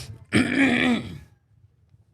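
A single short throaty cough or throat-clear, close and abrupt, followed by near silence.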